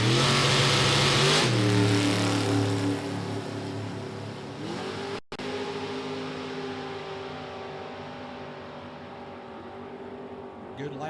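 A pair of drag race cars, one a 2007 Camaro Roadster, launch side by side and rev hard, engines climbing through gear shifts and staying loud and close for the whole run.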